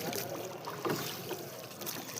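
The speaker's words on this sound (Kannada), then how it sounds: "ತ್ರಿವೇಣಿ ಸಂಗಮ ಹೋಗ್ತಾ ಇದ್ದೀವಿ ಬೋಟಲ್ಲಿ" A boat carrying passengers travels along the river toward Triveni Sangam at Prayagraj during the Kumbh Mela, a faint, steady rumble of motor and water with soft background murmur.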